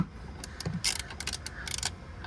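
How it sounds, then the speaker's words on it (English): Ratchet with a 22 mm socket tightening a seat bolt on a 2021 Freightliner Cascadia, a quick run of close clicking pawl strokes in short bursts. "we're gonna be using a 22 millimeter socket to get it tight."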